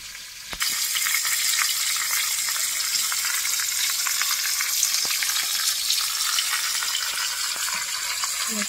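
Fish fries in oil in a pan over a wood-fired stove, a bright, constant crackling sizzle that begins abruptly and carries on steadily with a few sharp pops.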